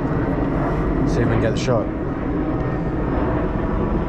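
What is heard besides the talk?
airplane flying overhead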